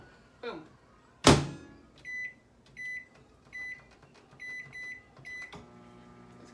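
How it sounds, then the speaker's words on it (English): Microwave oven running with potatoes inside, a door thunk followed by a series of short, evenly spaced beeps and a steady low hum, fairly close. "Oh, I need to put our potatoes in the microwave."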